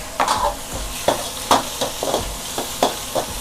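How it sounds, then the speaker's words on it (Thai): Shrimp stir-fried with garlic and chili in a wok, shown as a Thai drunken-noodle style shrimp dish: loud, rhythmic spatula scrapes about every half second over a constant sizzle, with no voices. "ผัดกุ้งนะคะพี่น้องคะ"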